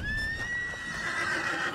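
A horse whinnies in Red Dead Redemption 2, a single loud, drawn-out neigh that carries through the whole moment with faint hoof clatter beneath it.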